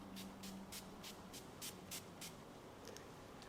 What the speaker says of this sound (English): I'm just going to spray it on my face.